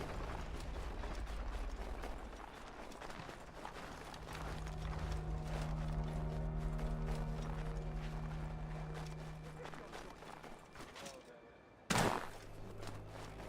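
Horse hooves clip-clopping at a walk in Assassin's Creed 3 Remastered, steady soft thuds under a low ambient game hum, ending with an abrupt loud thump near the end.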